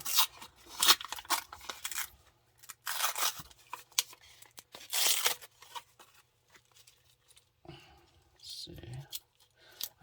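Plastic coin packaging torn and ripped open by hand during silver coin unboxing, a run of loud crinkling, tearing bursts with brief pauses, close to the mic, with someone talking briefly near the end.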